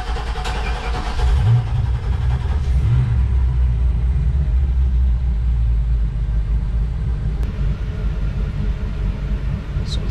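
A Mercruiser 8.2 marine boat engine runs at idle, a steady low rumble close by with a couple of brief rises in pitch early on, then an even drone that holds throughout.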